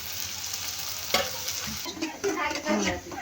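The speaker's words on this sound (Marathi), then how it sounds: "तेल गरम झालेलं आहे त्यात टाकलाय कांदा आणि हा असा गोल्डन भाजून घ्यायचा आहे" Onion frying in hot oil in a kadhai crackles and sizzles close by, with irregular bursts of spattering and stirring scrapes that grow busier toward the end.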